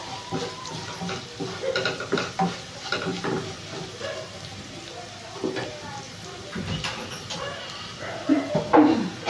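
A spice mixture with chili powder being stirred in a pan gives irregular scraping and faint sizzling up close, while a voice talks over it.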